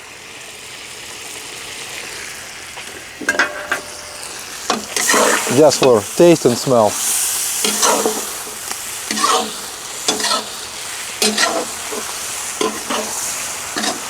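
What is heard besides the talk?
onion and garlic frying in pan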